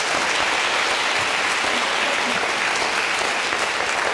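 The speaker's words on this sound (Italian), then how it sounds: "Dai un applauso, siamo rimasti qua in pochi." Dense, steady applause from a small remaining crowd greets two prize winners at a conference on stage, filling the whole stretch at an even, close level with no voices standing out.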